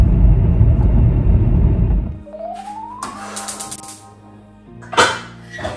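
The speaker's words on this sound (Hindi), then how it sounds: "अब थोड़ा ड्राइव कर लूँ क्योंकि ट्रैफिक बढ़ रहा है इस एरिया में" A car driven through building city traffic, its low engine and road rumble loud for about two seconds before dropping away, then a rising whine, quieter clatter and a couple of sharp bursts near the end.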